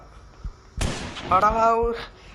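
A single sharp gunshot cracks out in the video game Granny 4, followed by a voice speaking over the fading noise.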